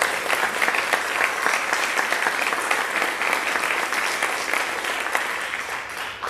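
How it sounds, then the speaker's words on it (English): An outdoor jazz-in-the-park audience gives a dense, sustained round of applause for graduating seniors and a college band, loud and even throughout with no clear voices. "Give them one more round of applause to our seniors and college band."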